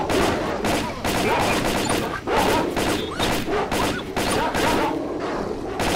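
Rapid bursts of automatic rifle fire in the video game S.T.A.L.K.E.R., loud, close and nearly continuous in repeated volleys across the whole stretch.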